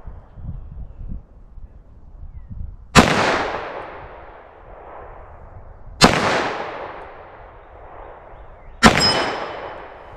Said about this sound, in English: do 4 rounds in each particular handgun. See what kind of punch and accuracy I can do at that plate at that distance.